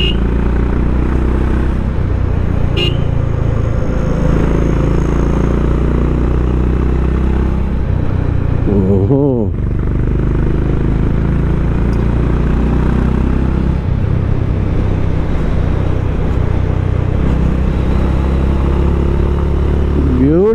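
A Honda CB350 motorcycle ridden through city streets, its steady loud engine rumble running the whole time with heavy wind buffeting and a brief dip near the middle, while a rider talks over it.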